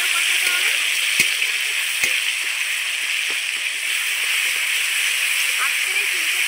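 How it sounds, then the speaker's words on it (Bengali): Cauliflower curry masala with cumin paste and tomato sautés in a pan with a steady, bright sizzling hiss, broken by a couple of faint clicks of stirring. "জিরে বাটাটাকে দিয়ে আবারও কষাতে হবে।"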